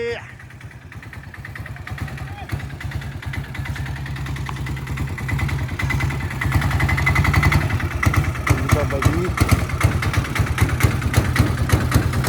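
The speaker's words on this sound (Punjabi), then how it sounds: "ਸਾਰੇ ਟਰੈਕਟਰ ਇੱਥੇ ਖਲੋਤੇ ਆ" Several tractors stand idling together near a river crossing by a village, their engines churning in a steady low rumble that swells and pulses, with people talking over the noise.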